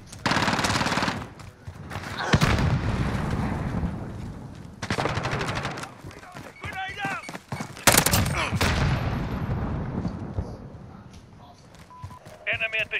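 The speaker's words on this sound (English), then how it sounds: "Grenade out!" Gunfire and a grenade blast in the first-person shooter Call of Duty: Modern Warfare, with loud bursts of automatic fire and sharp impacts over a noisy battlefield, while voices call out beneath the shooting.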